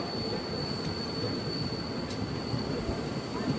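Rajya Rani Express rolling into Kollam Junction, a dense continuous rumble of wheels on rails with a thin high whine running throughout, steady and fairly loud with no voices.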